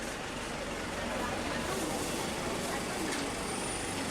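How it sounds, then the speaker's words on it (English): Trucks, motorbikes and other vehicles pass through a tight back alley lined with food stalls in the Old City of Chiang Mai, making a steady, loud, close traffic rumble that fills the whole stretch without a break. "That's a range of vehicles, ain't it?"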